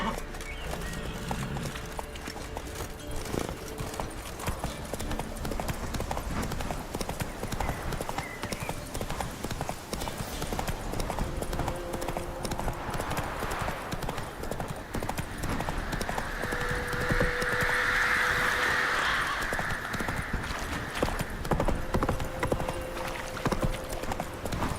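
Roach, the horse in The Witcher 3, gallops with a steady rapid clip-clop of hooves close by, while ambient game noise and a rising whoosh sit beneath the rhythm.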